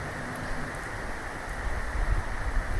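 Steady dense rain hiss on a rural road trip, with a low rumble that swells toward the end and no voices.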